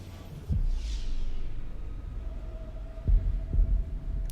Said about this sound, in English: Slow down, heartbeat animation and everything.